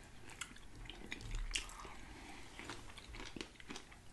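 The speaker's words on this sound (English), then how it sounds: "I love granola like in every bite." Close-up chewing of crunchy Nature Valley granola in a yogurt bowl, with moist crunches and squishy bites in an irregular rhythm, near and fairly quiet, with no talking.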